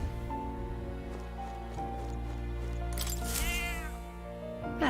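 A cat in the video game Metaphor: ReFantazio meows in a few short calls, the loudest and clearest one near the end, over steady game background music.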